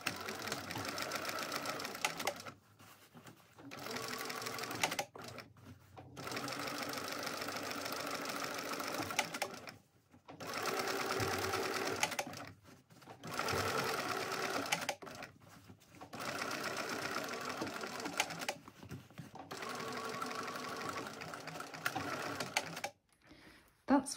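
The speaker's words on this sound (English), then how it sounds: "we're going to top stitch through this top piece with an 1/8-inch seam allowance" A sewing machine top stitches a handbag in long whirring runs separated by short pauses, a steady mechanical buzz heard up close with speech mixed in at times.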